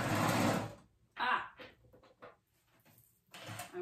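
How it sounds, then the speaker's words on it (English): A sewing machine stitching a narrow seam on a reusable snack bag, running in short whirring bursts separated by pauses, fairly quiet and close. "now I'm gonna go ahead and sew around and like a 1/8 of an inch seam allowance"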